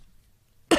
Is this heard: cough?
yes